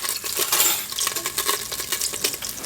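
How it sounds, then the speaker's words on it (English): Chicken adobo with soy sauce, vinegar, onion, garlic and cayenne is stirred in a pot, giving a close, continuous wet scraping and clinking of a utensil against the pot with no voices. "add my soy sauce, my vinegar, my onion, garlic, and cayenne to the pot, and then I'm going to stir it pretty well"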